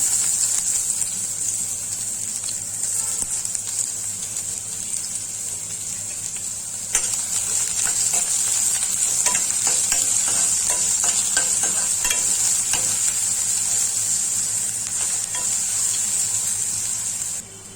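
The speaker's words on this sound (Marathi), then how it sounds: "तेल गरम झाले. त्याच्यात आपण तेजपत्ता, तमालपत्र, कांदा," Bay leaves and onion fry in hot oil in a kadhai, giving a loud, continuous sizzle with a stir partway through and crackling that picks up in the second half.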